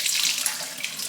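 Hot water pours into a hot water bottle being topped up, a short steady gurgling trickle heard up close and alone.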